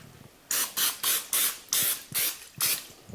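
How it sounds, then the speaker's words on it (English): Vegetable oil sprayed onto salmon in a rapid series of about eight short, sharp hissing bursts, close and loud, with brief gaps between each spritz. "I'm just gonna spray it just like that."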